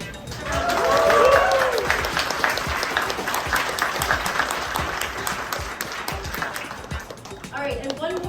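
Crowd at a riichi mahjong tournament, the Riichi Nomi Open, breaks into steady applause, loudest early on with a few whoops, then thinning out as a voice starts talking near the end.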